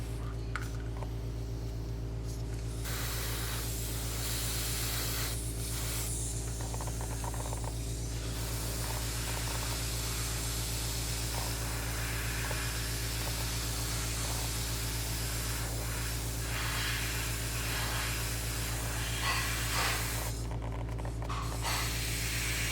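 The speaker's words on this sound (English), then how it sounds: "I'm going to back off and kind of spray up." An airbrush sprays white paint onto a quarter-scale Deadpool figure, giving a steady, continuous hiss over a constant low mechanical hum that runs unbroken for over twenty seconds with no talking.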